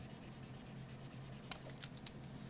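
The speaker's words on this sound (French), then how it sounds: "j'en profite pour gommer et nettoyer un peu mon dessin" Eraser rubbing across a pencil drawing on paper, a soft series of rhythmic scratchy strokes, fairly quiet and close, with a few sharper rubs near the end.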